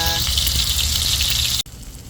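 Loud, dense sizzling of tofu frying in hot oil, close up, cutting off abruptly near the end.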